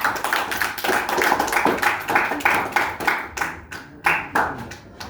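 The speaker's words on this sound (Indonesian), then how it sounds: "Tepuk tangan kelompok 2." A small classroom group claps for a student group, the sharp, close hand claps starting dense and then breaking into separate rhythmic bursts that taper toward the end.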